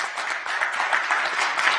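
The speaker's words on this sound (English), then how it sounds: "if we could all give him a round of applause for what he does every day" A county commissioners meeting audience applauds a departing county employee with brief, steady clapping from a modest crowd, heard close and fairly loud.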